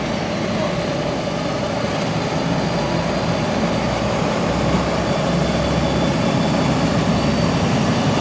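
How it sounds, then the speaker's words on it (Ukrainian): A scooter's small engine runs steadily after a collision with a passenger car on a bend, a constant loud broadband drone with a low rumble throughout and no talking. "Це скутер, пацани."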